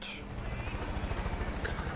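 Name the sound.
helicopter in a video game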